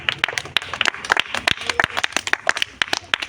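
A crowd claps loudly for a consolation-prize winner at an outdoor village game of rolling a ball to knock over bowls, with dense, uneven rapid claps and voices mixed in.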